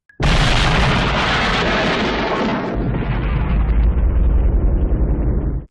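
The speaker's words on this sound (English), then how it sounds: "A giant cannon that fires a town-destroying explosive." A giant cannon fires an explosive shell: a massive, close explosion booms out and rumbles on for several seconds, a dense roaring blast that settles into a long, heavy rolling rumble.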